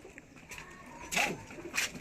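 Tournament pigeons held at a home, giving a few soft coos and rustles, with two louder bursts of flapping or calls close by against a quiet background.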